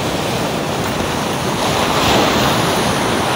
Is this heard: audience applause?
no